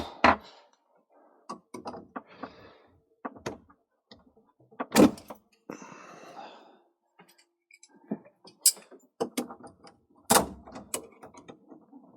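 A motor is pried off a Vaillant Ecofit Pure boiler diverter valve, giving scattered clicks, plastic snaps and scraping handling noises with quiet pauses between them.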